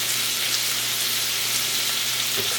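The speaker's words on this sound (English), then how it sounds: "we're going to heat up a pan so we can warm our pita bread" Pita bread warming in a heated pan, giving a loud continuous close sizzle with a soft hiss and no pauses or talk.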